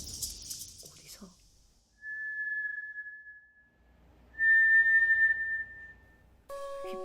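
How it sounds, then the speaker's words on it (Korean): An eerie whistling sound effect in a ghost story set in a university dormitory at night: two long, thin, steady whistle tones separated by quiet, with faint noises before and a brief flurry of tones at the end. "휘파람 소리가 들리기 시작합니다."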